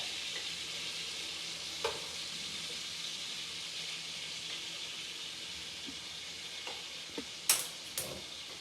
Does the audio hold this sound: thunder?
no